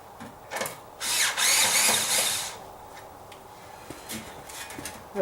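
Power drill driving hex screws into a sheet metal fender on a Jeep Wrangler JK, with one loud whirring burst lasting about a second and a half, then quieter shop background and small knocks.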